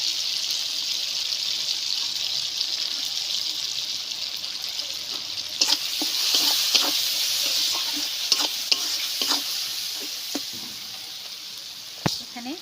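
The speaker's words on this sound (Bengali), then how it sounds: "ভালো করে ভাজি" Potatoes with Kashmiri chilli powder sizzle and hiss steadily in a pan for Bengali alur dom, with scraping stirs and clinks of a spoon breaking through at irregular intervals, close and moderately loud.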